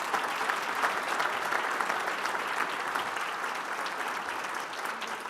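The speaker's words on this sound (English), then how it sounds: "So how about one last round of applause for these 3 ladies?" An audience at a book event with a legal scholar gives a final round of applause, even, continuous clapping from a crowd that holds steady throughout without speech over it.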